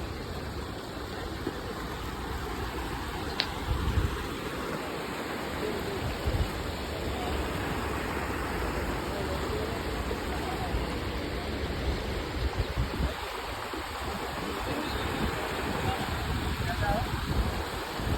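The Banas river in flood rushing under and past the Deesa bridge, a constant broad roar of flowing water close by, with a few faint knocks and bumps from the bank.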